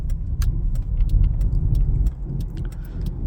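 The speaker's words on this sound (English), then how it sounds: "we're going on a night drive tonight" A Ford Ranger Raptor pickup drives at night, its low engine and road rumble steady and close, with scattered light clicks and rattles from inside the cabin.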